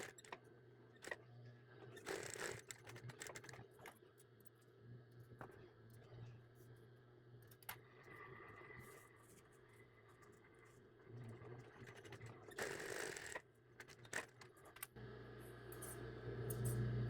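A sewing machine stitches down the back flap of a cat hooded towel, running in a steady mechanical whir with brief bursts and pauses against a quiet room.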